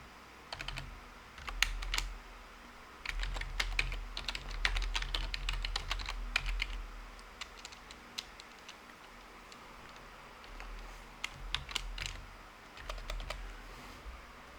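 Server details are typed on a computer keyboard in quiet, irregular bursts of close key clicks, with short pauses between runs.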